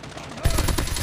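Gunfire in the mobile shooter Call of Duty Mobile: a loud volley of rapid shots breaks in after a quiet moment and keeps going as close, repeated bursts over game noise.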